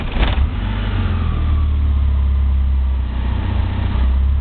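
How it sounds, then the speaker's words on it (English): A 1988 Dodge Omni engine converted to E85 fuel cold-starts with a brief crank burst, then settles into a steady, loud, close idle that runs on without a break. "I don't think I'll have to touch the gas to start this thing."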